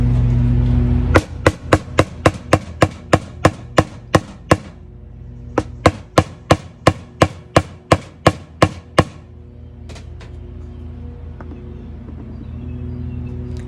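A screwdriver is hammered into a pot to punch holes, giving two quick runs of about a dozen sharp metallic strikes each in a steady rhythm, close and loud over a low background hum.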